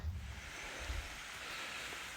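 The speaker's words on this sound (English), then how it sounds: "Little slide waterfall there." A small sliding waterfall on the Foothills Trail, heard as a steady, broad rushing wash of water with a low rumble, continuous and moderately close, with no voices.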